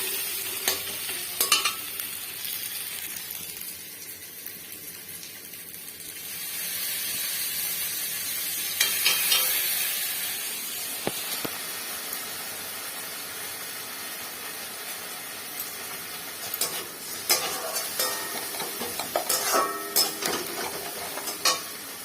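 Pomfret mustard masala sautéed in a pan with turmeric and chili powder, a steady sizzle with occasional louder scrapes and stirring clatter close by, no voices.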